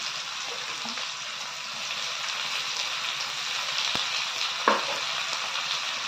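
Chopped onion and diced tomato fry in hot oil, a steady bright sizzle with light crackles and a couple of stirring clinks, constant and fairly loud throughout.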